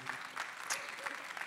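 A debate audience claps together in a brief, quiet burst of scattered, uneven hand-claps.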